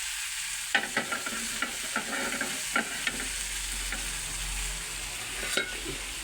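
Dosa batter sizzles on a hot pan, a soft continuous frying hiss punctuated by several sharp clicks and scrapes of a utensil against the pan.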